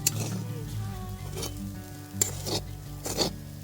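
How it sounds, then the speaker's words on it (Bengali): Chira pulao (flattened rice) with chopped cashews is stirred in a pan, soft sizzling with a few distinct scraping strokes of a spatula, fairly quiet and close. "আমরা এটাতে কুচনো কাজু দিয়ে দেব, দিয়ে হালকা নেড়ে নামিয়ে নেব"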